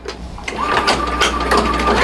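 An embroidery machine sews a tack-down stitch on a glittered fabric patch, a loud, fast, steady rattling hum of rapid needle strikes with a sustained motor whine throughout.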